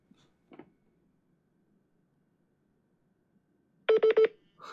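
A telephone keypad sends a quick run of three or four DTMF dialing tones near the end, after a faint tap and near silence.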